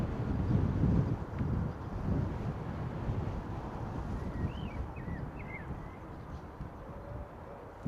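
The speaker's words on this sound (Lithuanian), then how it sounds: "O, dabar labai stiprus vėjas pučia." Strong outdoor wind buffets a DJI Mic Mini 2 microphone beside a football stadium, making loud, uneven low rumbling gusts that ease slightly toward the end, with a few faint bird chirps in the background.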